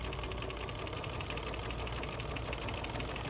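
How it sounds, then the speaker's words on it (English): Domestic sewing machine running steadily at quick speed while stitching binding onto a quilt, a continuous close mechanical hum with a fine rapid needle chatter and no pauses. "I'm gonna sew this full side, and I'm gonna sew pretty quickly here"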